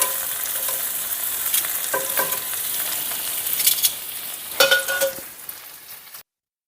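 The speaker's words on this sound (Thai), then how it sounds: "ก็เอาหอมที่ ที่เขาไม่ไหม้มากนี่แหละจ้ะ ใส่ลงไปด้วยกันเลย" Fried shallots tipped into a pot of beef stew and stirred: a steady close sizzle broken by a few clattering scrapes and knocks, then sudden silence at the end.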